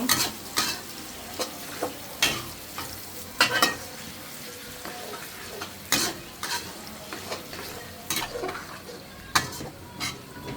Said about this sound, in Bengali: জিরা তারপরে দিলাম পেঁয়াজ আমি লাল করে ভেজে নিব